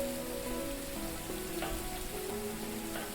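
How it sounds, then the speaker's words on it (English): Rain hisses steadily in a fishing video game, an even wash of patter under faint tonal ambient sounds, with no talking. "I love when it rains in this game."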